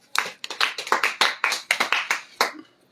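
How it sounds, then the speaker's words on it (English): Applause for Allan in a talk show studio: about a dozen distinct, close hand claps in a quick, uneven rhythm, fading out at the end with no voices. "A big round of applause for Allan."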